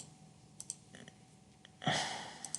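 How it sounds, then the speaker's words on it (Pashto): Computer mouse clicks while a form is built in MS Access: a few faint, sparse clicks, then a sharper louder click with a brief noisy swell, and two more light clicks near the end. "دا به کلیک کړو"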